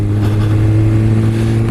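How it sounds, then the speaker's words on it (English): A 2016 Kawasaki Ninja ZX6R in full power mode holds a steady, loud mid-pitched engine drone close by, with harmonic bands staying level and no speech over it. "Now I've got the bike in full power mode."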